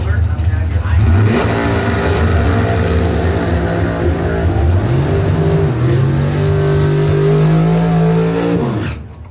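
A drag race car with a 638 cubic inch Ford engine roars loudly and continuously at close range, its pitch climbing through rising revs and shifts before cutting off abruptly near the end, with an announcer's voice partly audible over it.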